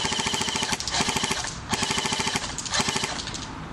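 A CYMA Thompson airsoft gun fires rapid full-auto bursts, close and loud, with fast even clatter in three strings separated by brief gaps.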